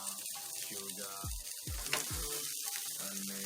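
Meatballs frying in vegetable oil in a non-stick pan, a steady close sizzle throughout with faint voice-like tones mixed in.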